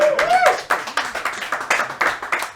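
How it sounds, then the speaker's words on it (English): Clapping from an audience at a gathering for the 63rd Gordon Bennett gas balloon race, 2019, with a voice over the first part and a steady patter of hands that rises and falls in waves throughout. "Give me a round of applause, ladies and gentlemen."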